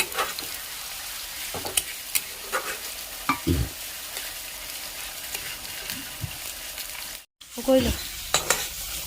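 Cumin and other spices frying in a pan for a chickpea and paneer vegetarian dish, a steady sizzle broken by repeated scraping strokes of a stirring spoon, close and clear with no talking.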